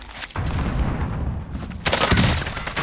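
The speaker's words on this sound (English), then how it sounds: "Oh, sniped." Gunfire in a video game, a sharp loud shot that cuts in early, then rumbling action, then another burst of loud crackling blasts near the end, with no talk.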